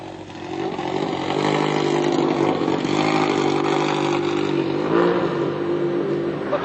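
Rally cars, an Alpine Renault and a Lancia, start off at the Tour de Corse in 1975, their engines revving loud and steady with rising and falling pitch for several seconds.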